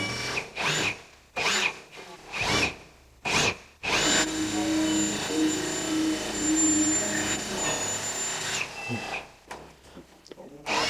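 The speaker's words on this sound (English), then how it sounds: "you're drilling pilot holes" A power drill bores pilot holes in wood while building an electric fireplace enclosure: several short, sharp whirring bursts, then one sustained run of about four seconds, close and loud.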